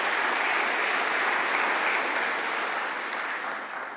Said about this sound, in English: Please, huge round of applause to Emanuele